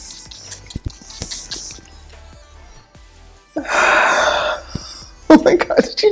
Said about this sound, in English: A few drops in a bottle of water, and then you just spray it like this.